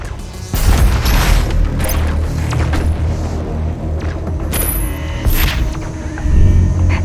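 A charged weapon in DOOM Eternal fires in heavy booming blasts layered over rumbling low-end game action, loud and close, with sharp bright crashes and a sustained roar between shots.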